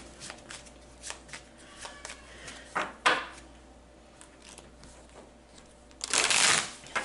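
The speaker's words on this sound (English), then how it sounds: "Just want to make sure that these are well shuffled." Tarot cards shuffled by hand, soft riffling bursts near 1 and 3 seconds and a loud, longer shuffle around 6 seconds, close and alone with no talk.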